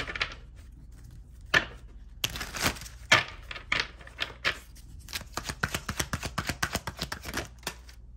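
Tarot cards are shuffled alone in a quiet room: short riffles and bursts of rapid flicking, then a fast run of crisp slaps and clicks close to the listener.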